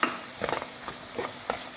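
Beans go into a pan of half-sautéed onions, sizzling softly while a utensil scrapes and stirs in several irregular, light strokes.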